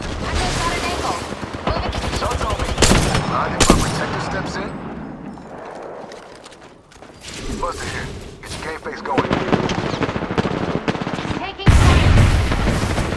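Apex Legends gunfire: loud bursts of rapid automatic shots and heavy booms, close and dense, easing briefly in the middle before another hard burst near the end, with voices mixed in.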